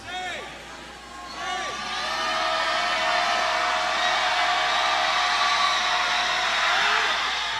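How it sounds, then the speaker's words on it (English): Basketball crowd at a Southern Virginia University versus Apprentice School men's game cheering loudly and steadily after a made basket, a broad roar that swells and holds, with some whistles and commentary voices over it. "That crowd's really responding."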